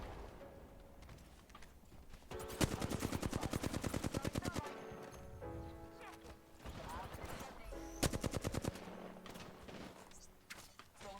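Rapid bursts of gunfire from P20 and Mozambique weapons in the video game Apex Legends, two loud rattling volleys with scattered single shots between, under a voice speaking through much of it.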